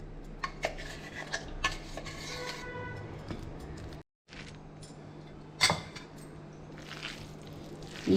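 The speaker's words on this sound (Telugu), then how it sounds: "ఈ మసాలాలోకి మనం కైమాను వేసి అంతా కూడా చేత్తో బాగా కలుపుకోవాలి" Minced mutton keema being mixed by hand with masala paste in a bowl, giving close, wet squishing and scattered clinks against the bowl, with one brief silent gap midway.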